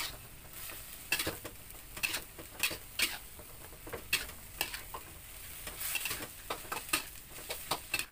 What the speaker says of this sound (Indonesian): Setelah 1 menitan, aduk-aduk dan tutup kembali hingga daging matang.